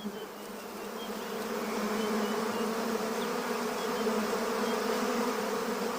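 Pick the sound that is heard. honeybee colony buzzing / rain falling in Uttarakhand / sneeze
honeybee colony buzzing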